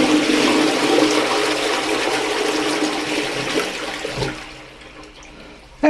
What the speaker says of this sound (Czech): Když jinak nedáte, tak ten splachovací test udělám